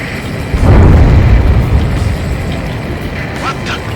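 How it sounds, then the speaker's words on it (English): In the flight game Ace Combat 7, an underwater explosion lets out a loud, deep boom that swells into a heavy, sustained rumble and slowly eases off. "A huge explosion just went off underwater."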